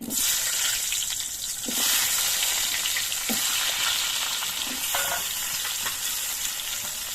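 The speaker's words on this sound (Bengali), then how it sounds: "মশলাগুলো ভাজা হয়ে যাওয়ার পর এর মধ্যে আমি আলুগুলো দিয়ে দিচ্ছি" Potatoes and whole cumin frying in hot oil in a home kitchen hiss loudly and steadily, with occasional stirring scrapes and clinks, close by and with no talk.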